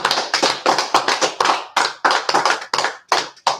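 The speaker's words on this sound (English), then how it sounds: "clap it up for the sisters who made the wonderful food." A small group claps for the women who cooked a Purim feast, with quick, irregular bursts of hand claps close by and no talking during the applause.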